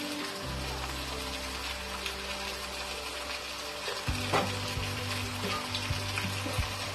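Fried potatoes are stirred into a mutton curry in a pan, giving a steady close sizzle with occasional scraping and stirring knocks.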